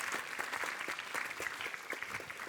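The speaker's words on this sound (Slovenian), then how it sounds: "Bravo, še za to en velik aplavz." A school audience applauds a primary school team after a quiz contest, a fairly faint, steady patter of clapping from a modest crowd with no voices over it.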